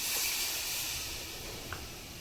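Mixer rinse water poured into a hot pan of crab masala with turmeric and red chilli sets off a loud, steady broadband sizzle and hiss that slowly fades, close up with no talking.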